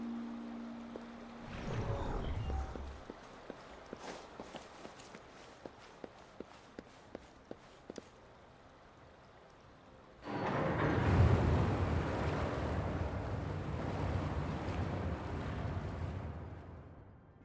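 Water rushing and draining away inside the video game Wuthering Waves, a broad surging wash that swells loudly after a stretch of evenly spaced footsteps, then holds as a steady roar.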